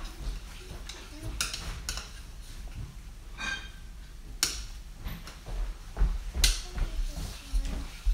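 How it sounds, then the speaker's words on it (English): A spoon stirs a sake sauce in a pan, giving soft scraping and occasional clinks against the metal, with sharper knocks at a few points over continuous low kitchen background. "Do you want me to stir it? Yeah, you can stir it"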